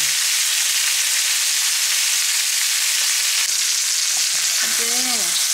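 Shrimp meat fries in a pan with a steady, loud, close sizzle that keeps on without a break, and a faint voice-like sound comes in near the end.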